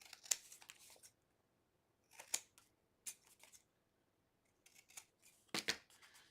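Scissors snip in short separate bursts while mitering a folio pocket, each cut crisp and close, with quiet pauses between them.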